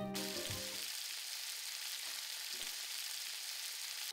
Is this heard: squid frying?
yes